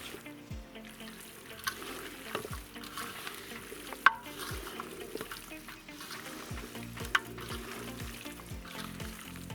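Salted meat for canned stew being stirred by hand: repeated wet squelching, scraping strokes at a loose rhythm with a few sharp clinks, close up and fairly quiet.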